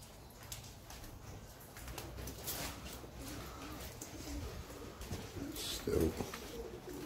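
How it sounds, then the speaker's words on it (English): Pigeons coo faintly inside the abandoned St Crispin's Hospital, low soft calls rising now and then over a hollow, noisy room ambience. "There's pigeons in here because they keep shitting me up."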